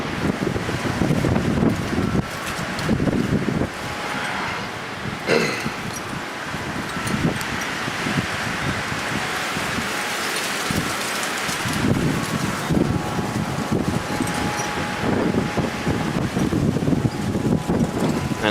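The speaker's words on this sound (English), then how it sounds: "it's very windy now" Strong wind gusts blow steadily during a high-wind storm, a continuous broadband roar with rustling and buffeting surges, loud and close throughout with no speech.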